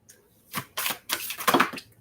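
Tarot cards shuffled by hand during a reading, a series of short riffling bursts of papery flutter, fairly close and moderately loud, with brief pauses between them and no talking.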